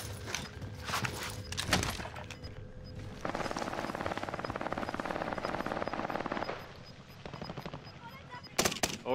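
Rapid automatic gunfire bursts in a battle royale shooter game, loud and close, with a long sustained stretch of fire and sharp isolated shots, mixed with footsteps and brief voices talking over it.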